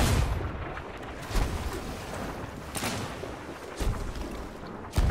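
Booming ship cannon fire in Sea of Thieves rolls out in several heavy, spaced blasts over a constant roar of sea and wind.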